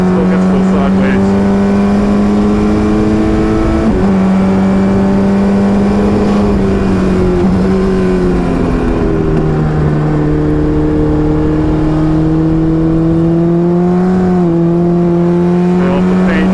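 A race car engine at Summit Point Raceway in the rain, loud and close throughout, holding steady tones with gear shifts and throttle changes, while a driver talks over it.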